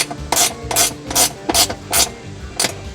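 A ratchet with a 10 mm socket tightens trailer hitch bolts on a 2018-2020 Jeep Wrangler JL, giving six short bursts of clicking at an uneven pace, close and fairly loud, with no talk.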